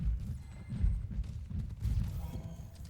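Footsteps of Reaper in the Overwatch map Dorado, heavy low thuds repeating in an uneven rhythm amid other game noise and clatter, fairly close and moderately loud.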